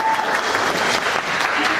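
Steady, dense applause from an audience at a roast event, loud and continuous throughout with a faint murmur of voices mixed in.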